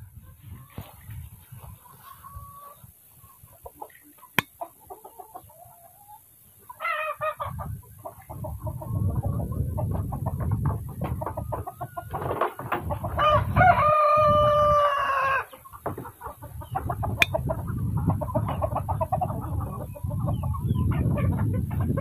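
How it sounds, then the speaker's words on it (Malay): Rhode Island Red chickens clucking and crowing in a farmyard, scattered clucks building to a loud crow midway, with steady rustling and background noise throughout and no talking. "Pak Long lepaskan dulu ayam-ayam RIR"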